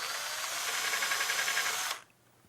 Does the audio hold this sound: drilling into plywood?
yes